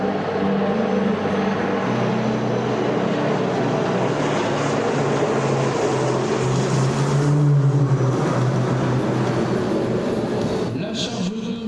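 A Grumman Tracker T24 firefighting aircraft releasing a 2500-litre water load in two phases at a civil security base open day, a loud continuous propeller-engine roar with a rushing wash that fades at the end.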